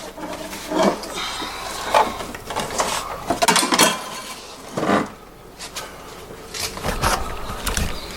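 A removed 1999 Mitsubishi Eclipse GSX dashboard is flipped over, giving several loud plastic knocks, clatters and scrapes in uneven bursts, close by, with no talking.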